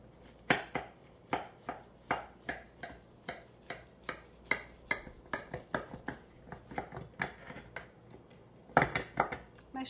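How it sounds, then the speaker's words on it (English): Knife slicing through a warm bacon, leek, cheese and grape tomato quiche, giving a rapid series of close, crisp tapping cuts against the plate beneath, steady rhythm with a louder cluster near the end. "Let me cut it so you see what a slice looks like."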